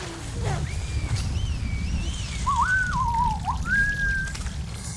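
Several whistled calls from people in The Last of Us season 2 finale rise and fall over a low rumble of water and wind, sliding between tones like signals passed between distant people.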